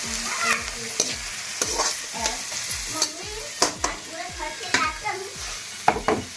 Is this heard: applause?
no